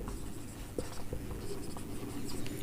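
Faint scratchy strokes of writing on a board during a Class 11 trigonometry lesson, a few soft taps and scrapes half-buried in steady room noise.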